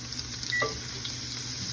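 Mushrooms sautéing in a pan, a steady soft sizzle with a brief scrape of a utensil partway through, close and without talk.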